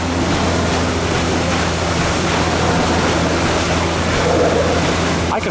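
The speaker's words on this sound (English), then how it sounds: "Oh, the sound of a paddle wheel?" Paddle wheel churning water on a riverboat at Disneyland, a constant broad rushing and splashing wash like surf, loud and close, with a low steady hum underneath.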